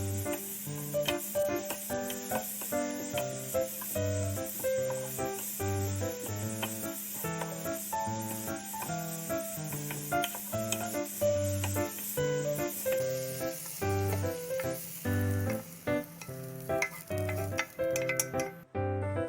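Zucchini stir-fries in a pan with a pinch of salt for vegetable bibimbap, giving a steady hissing sizzle. The sizzle runs under louder rhythmic background music throughout, with no talking.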